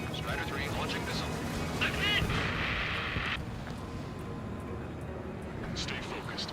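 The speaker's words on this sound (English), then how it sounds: "Strider 3 launching missile." A missile launches from a fighter jet in the combat flight game Ace Combat 7: a brief rushing whoosh over a steady roar of aircraft and distant gunfire, with radio chatter talking over it.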